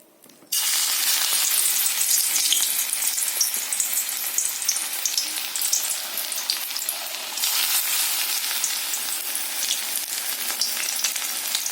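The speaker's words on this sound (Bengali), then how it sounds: "আমি বড়াগুলোই ছোটো ছোটো করে তেলের উপরে ছাড়বো" Small vegetable fritters (bora) sizzle in hot oil over a lowered gas flame, a dense, steady crackle that starts abruptly just after the batter drops in and carries on loudly without any talking.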